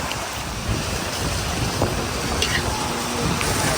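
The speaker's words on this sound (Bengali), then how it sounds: "হঠাৎ প্রচণ্ড বৃষ্টি আর বাতাস" Sudden heavy rain driven by strong wind on a rainy day, a loud, continuous broadband roar with gusts buffeting the microphone, steady and close throughout.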